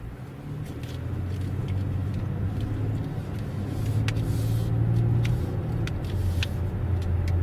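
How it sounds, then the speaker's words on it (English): A pickup truck drives past on a road, a steady low engine and tire rumble that swells slightly toward the middle and lingers at a moderate distance, with no talking. "I'll let this pickup truck drive by"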